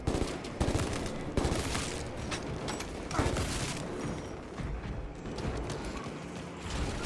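Cannon fire in a space video game, rapid heavy blasts in irregular bursts that overlap into a dense, loud barrage with mechanical clatter, continuous throughout.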